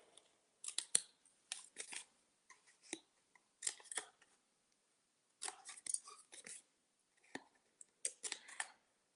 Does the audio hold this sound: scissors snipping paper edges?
yes